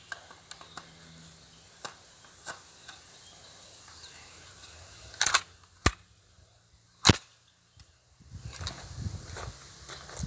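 Gunshots fired outdoors from a handgun, heard as a few sharp, loud, isolated bangs spread apart, with quieter clicks and handling noise between them and rustling near the end.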